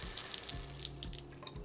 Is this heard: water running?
yes